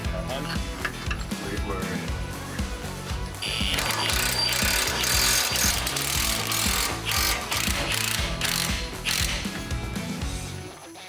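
A ratchet tightens bolts on a new differential for a 2011+ Infiniti QX56/QX80 or Nissan Armada, clicking in rapid bursts that grow louder midway and continue close up.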